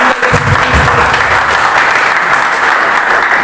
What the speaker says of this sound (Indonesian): Yang diberkati Tuhan boleh beri tepuk tangan bagi Tuhan.